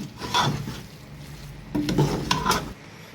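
Minced meat mixed with chopped green chilies in a pan, with a spoon scraping and rubbing against the metal in a few uneven strokes, close up and fairly loud, with no voices.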